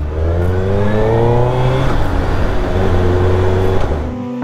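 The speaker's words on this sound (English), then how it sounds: "H2 and the Busa running together." A Suzuki Hayabusa and a Kawasaki H2 motorcycle idle together with loud, close engine drones, their steady humming tones rising and falling slightly over a continuous rumble.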